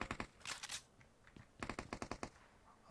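Automatic gunfire in PUBG Mobile, in Pochinki, as two sharp bursts of rapid shots, a short volley early on and a longer string of evenly spaced cracks later, loud and close with a quieter gap between.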